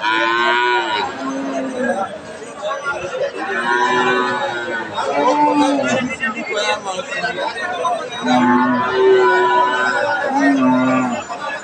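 Loud dairy cows moo repeatedly, long drawn-out calls close by, over a busy crowd murmuring and chattering at a cattle market in the background.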